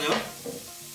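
Soy sauce hits shiitake mushrooms frying in a hot pan, giving a brief sharp sizzling burst that quickly fades to a softer crackle.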